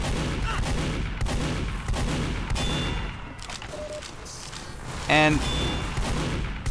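Scout's scattergun in Team Fortress 2 firing amid a busy match: repeated sharp blasts and chaotic combat noise throughout, with a brief voice heard over the din.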